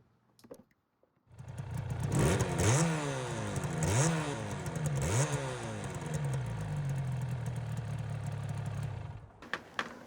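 A two-stroke motorcycle engine revs up close, three sharp rising-and-falling blips over a raspy idle before settling into a steady buzz and cutting off.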